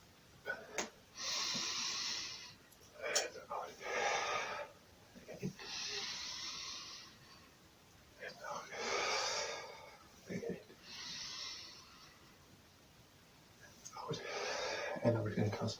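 Deep breaths are drawn in and pushed out during a stretching exercise, close and audible, in a rhythm of bursts roughly every couple of seconds.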